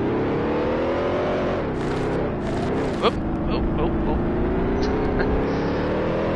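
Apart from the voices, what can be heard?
race cars driving in video game Grand Prix Legends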